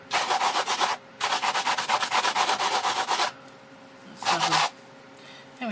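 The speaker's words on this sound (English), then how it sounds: "It's not a lot of sanding required." Hand sanding across an art piece gives rapid, rhythmic scratchy strokes in two long bursts, then a shorter third one, close-up and fairly loud with brief quiet gaps between.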